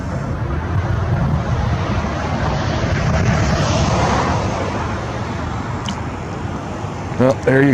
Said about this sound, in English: It's just been one jet after another jet after another jet coming through